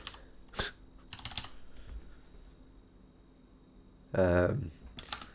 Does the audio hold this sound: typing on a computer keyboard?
yes